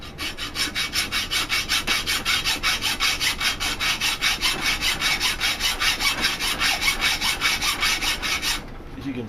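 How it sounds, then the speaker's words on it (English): A hand hacksaw cuts through softened knife steel in fast, even back-and-forth strokes, a close, loud, rhythmic rasp that continues for about eight seconds and then stops. "this metal is soft. I mean, it's the hacksaw's cutting right through it."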